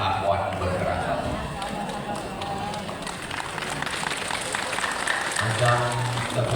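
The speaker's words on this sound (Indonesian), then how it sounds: "Macam tepuk tangan orang belum makan siang." Scattered, half-hearted clapping from an audience at an Islamic lecture in Batam, a thin uneven patter running under ongoing noise and talk.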